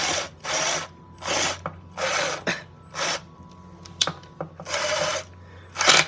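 Ratchet tightening an oil pan bolt on a Mazda Miata, a series of about eight short buzzing ratcheting strokes in a regular back-and-forth rhythm with brief pauses and a few metallic clicks, close and clear.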